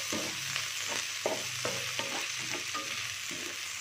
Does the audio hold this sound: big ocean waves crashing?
no